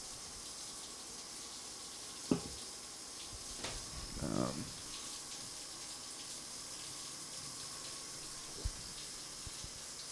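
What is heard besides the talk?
shower water running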